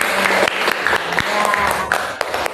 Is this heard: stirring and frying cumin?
no